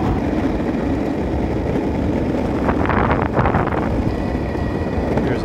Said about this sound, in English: The wind is crazy strong.